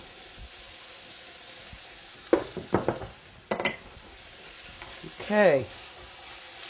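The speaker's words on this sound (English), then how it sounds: "so now that we're sauteing the cactus" Nopales cactus sautés in a pan, a low steady sizzle beneath a few sharp scrapes and clinks of a utensil stirring, close by, with one brief spoken word.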